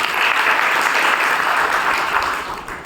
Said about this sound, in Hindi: अच्छा, तालियां जोरदार आप सबके।